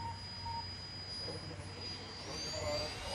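A steady whine of small electric motors on a 3D-printed RC VTOL plane transitioning from hover, humming with a high tone rising slightly in pitch, moderately loud with airy background noise.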